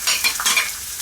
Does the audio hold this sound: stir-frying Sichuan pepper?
yes